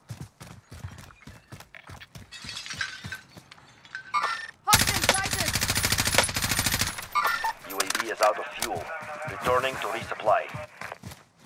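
Gunfire in the Call of Duty Warzone video game: rapid single shots at first, then a dense, loud burst of automatic fire mixed with game sounds and radio-style voices.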